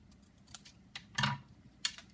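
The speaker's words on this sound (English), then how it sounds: "it's just a matter of kind of trimming it" Scissors trim paper scraps for a stamped card, with a few quick, close snips separated by brief pauses in a quiet room.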